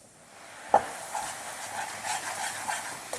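A sauce of lime juice, sugar and spice bubbles and hisses in a pan on the stove, a steady close simmer with a single sharp clink of a stirring utensil against the pan early on and light scrapes after.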